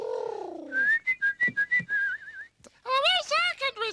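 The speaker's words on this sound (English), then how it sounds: "could you whistle a little more softly?" A person whistles a bright, wavering tune in short separate notes and then a longer warbling run, close and fairly loud, with a voice speaking briefly at the start and no other sounds.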